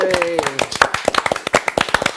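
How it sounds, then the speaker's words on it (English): A small group claps at an online game finale celebration, sharp irregular hand claps near and distinct, with a voice talking over the start. "Can we get a round of applause?"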